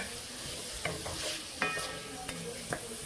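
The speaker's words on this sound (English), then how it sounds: "So you just want to let those fry up for a few minutes, maybe 2 to 3 minutes." Vegetables with garlic for chicken tortilla soup fry in a pot with a steady hiss, while occasional stirring clinks and scrapes cut in at intervals.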